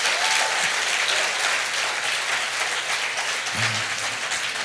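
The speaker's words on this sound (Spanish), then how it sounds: "denle un aplauso fuerte al Señor, mucho más fuerte al Señor" Church congregation applauding loudly and steadily, a dense continuous wash of clapping that fills the whole stretch without pause.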